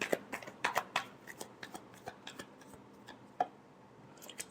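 Tarot cards shuffled by hand in a quick, uneven series of crisp riffling clicks and soft slaps, close and fairly quiet, with no voices.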